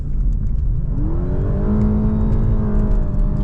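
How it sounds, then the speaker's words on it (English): A Lexus LS 500h V6 engine revs up hard under full throttle, its pitch climbing steadily into a throaty, sustained roar close by. "You've got a throaty V6 sound"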